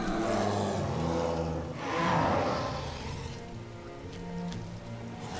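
Rain falling in the video game Rain, a steady hiss of drops on surfaces with swelling whooshes of wind and low tonal music underneath.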